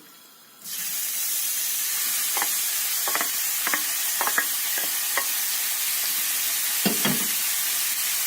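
A sudden loud sizzle erupts as meat hits hot oil in a pot and keeps hissing steadily, with occasional scraping and clinking from stirring.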